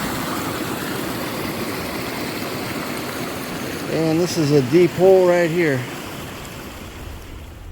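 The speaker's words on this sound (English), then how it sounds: "that creek flows into a waterfall down the bank into the river" A creek spilling as a waterfall down a bank into a river beside a redwood trail, heard as a steady, close rushing wash of water while someone talks briefly over it.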